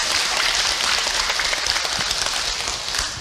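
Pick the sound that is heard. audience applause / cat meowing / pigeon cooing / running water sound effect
audience applause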